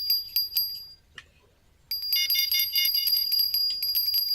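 A fishing bite alarm in the Fishing Planet video game rings in bright, rapid metallic bursts, pausing briefly before a longer continuous jangling ring takes over, loud and alone.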